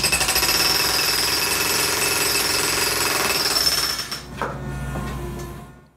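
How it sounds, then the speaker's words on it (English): Robotic jackhammer chipping into a concrete bank, heard at the operator position as a loud, continuous rapid hammering that holds steady, then falters and drops before resuming more faintly. "what you just heard there is the sound level of the jackhammer at the operator position"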